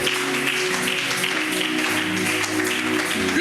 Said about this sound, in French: Acclame.